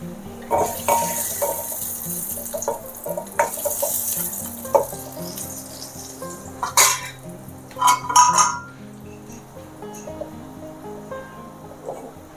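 Curry leaves being stirred into a hot tempering over brinjal chutney, with a steady sizzle and frying crackle under repeated metallic spoon clinks and pan scrapes, busiest in the middle, then quieter toward the end.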